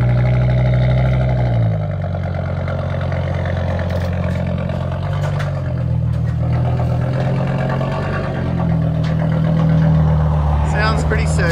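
An Audi TT RS engine rumbles as the car pulls away, a low steady drone shifting in pitch with a few rises, heard at moderate distance with a voice talking over it.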